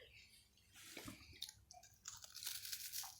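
Close, crisp crunching and chewing of crisp wafer cookies, several quick bites running together with no talking.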